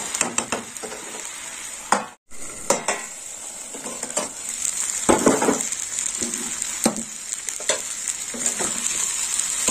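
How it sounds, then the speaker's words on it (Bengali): A pan of puti fish and onion curry is stirred, with a spoon scraping and knocking against the metal over a steady sizzle. Irregular strokes continue throughout, close and fairly loud, with one brief pause. "ভালো করে নেড়ে চেড়ে নেবো"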